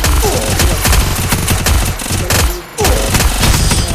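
Dense, loud automatic gunfire from the Free Fire video game, with rapid overlapping bursts that continue almost without a break and one brief dip in the middle.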